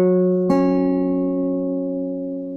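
Two sustained tones of a kite guitar sounding together as a perfect fifth, one string entering about half a second in, ringing steady and clean with a slow decay, close and alone.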